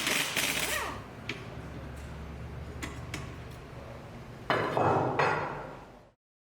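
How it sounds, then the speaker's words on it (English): Bolts being taken out of an old flex disc on a cardan shaft, heard as a few sharp metallic clicks and taps spread across a quiet background, with a louder clattering rattle close by near the end. "Remove the old cardan disc by taking out the bolts."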